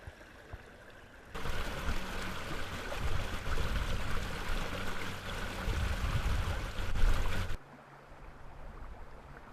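A stream flows past a series of click mills. A soft trickle gives way to a louder, fuller rush of running water that lasts several seconds, then drops back to a quiet trickle.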